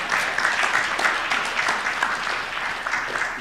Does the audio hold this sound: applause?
yes